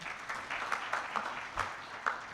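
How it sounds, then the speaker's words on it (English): Sparse, fairly faint applause from a business forum audience, a handful of distinct claps at uneven intervals over a soft room background. "A big hand clap for him."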